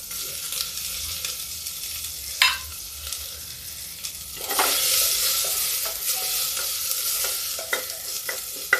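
Onion and garlic sizzle steadily in hot oil with cumin, with occasional clicks and scrapes of stirring that swell into a louder hiss midway.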